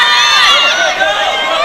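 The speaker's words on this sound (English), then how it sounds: "Big groan of ooh from the crowd here" A large crowd packed into the seats and steps at a kickboxing match in Manchester lets out a loud, sustained 'ooh' groan of voices that swells and then slowly eases.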